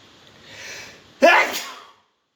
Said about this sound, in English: decides to take a sneezing fit and sneeze out of it like this